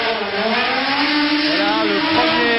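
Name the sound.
racing car engines started at Monaco Grand Prix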